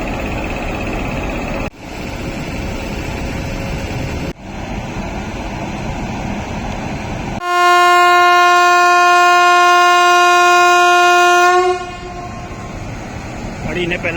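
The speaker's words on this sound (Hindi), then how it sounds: "गाड़ी ने पहला हॉर्न दे दिया है लोगों ने।" An air-conditioned Bikaner–Coimbatore superfast train at a station sounds its first horn, a loud, sustained multi-tone blast of about four seconds that rises out of a steady background rumble and then cuts off.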